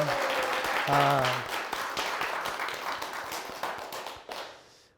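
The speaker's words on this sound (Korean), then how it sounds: "나에게 박수 한번 쳐주죠" Audience clapping at a talk on laughter and health, a moderate burst of scattered claps that starts with a voice and some tones at the outset, then thins and fades over a few seconds.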